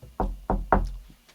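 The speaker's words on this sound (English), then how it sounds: "Knock on your wood." Three hard knocks on wood in a steady rhythm, each a dull, close thump with a short ring-out. Nothing else is heard around them.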